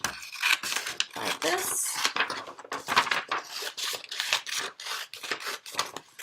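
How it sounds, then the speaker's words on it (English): Scissors snip through sheets of paper holding printed story frames, cutting them in half in a quiet room; a run of short crisp cuts and rustles sounds close by, and a voice speaks briefly over them. "So what you'll need to do is to cut them in half"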